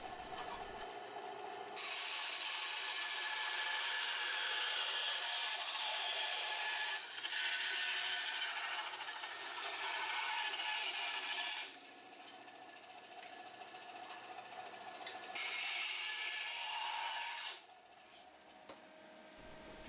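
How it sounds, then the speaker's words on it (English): Bandsaw cutting 2mm aluminium sheet, a loud steady high grinding rasp in long sustained passes, pausing briefly between cuts to a quieter motor hum. "just cutting out the shape on the bandsaw"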